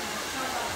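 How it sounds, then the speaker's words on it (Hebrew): Hair dryer blowing steadily in the background, a faint, constant airy hiss with no change over the short stretch. "זה פן."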